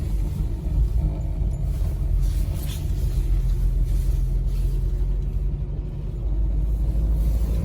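A 1983 BMW 320i with a five-speed gearbox idles steadily after starting, a low continuous engine rumble that stays even and close throughout, with no voices.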